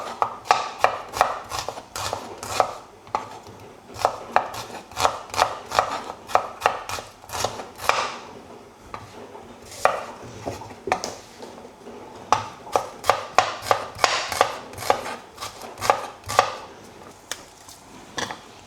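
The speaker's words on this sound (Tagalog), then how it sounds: "let's cut the onion" A knife chops onion on a cutting board for breakfast soup, making steady, close, crisp rhythmic strikes in quick runs with short pauses, and no talking.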